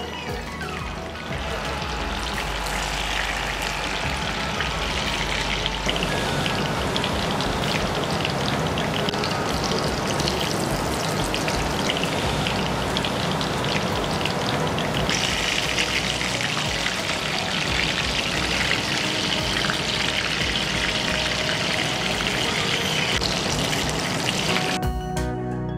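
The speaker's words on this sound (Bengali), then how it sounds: "শেফ বলছেন যে বাড়ির গ্যাসে মাঝারি উত্তাপে 5 থেকে 7 মিনিট উল্টে পাল্টে আপনাদের চিকেনটাকে ভেজে নিতে হবে।" Chicken steak frying in a pan over medium gas heat, turned with tongs, giving a steady, dense sizzle that runs unbroken throughout, with no talk.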